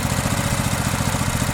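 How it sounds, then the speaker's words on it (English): A flea market push lawn mower engine runs steadily at high idle, close and loud, with a fast, even pulsing beat and the whole machine rattling hard. "Apart from the whole machine rattling so bad, the engine sounds just perfect."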